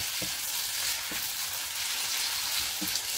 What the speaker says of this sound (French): des oignons, échalotes, ail. On va faire revenir comme il faut.